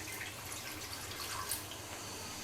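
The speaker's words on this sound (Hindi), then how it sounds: "अब इसमें मैं डालती हूँ 1/4 कप के करीब पानी" About a quarter cup of water goes into frying spices and ginger paste in a pan while making nihari. A soft, even hiss of liquid against the hot mixture is heard up close, with a few faint drips and no voices.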